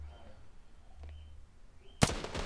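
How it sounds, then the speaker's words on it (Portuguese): Gunshot striking a wall in the mobile shooter Standoff 2, a single sharp loud crack near the end after quiet game ambience, followed by brief rattling debris. "olha o tiro que eu dei na parede"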